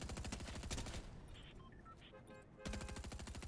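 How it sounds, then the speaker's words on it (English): Rapid bursts from a Twin Mag SMG in the Fortnite video game, firing in quick rattling volleys that stop for a gap of faint game sounds and then resume at full rate. "Twin mag SMG."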